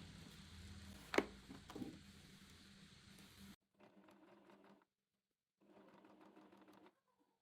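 A sewing machine stitching quilt fabric, running in a few short bursts separated by pauses, a close, quiet mechanical whir with a sharper clack near the start.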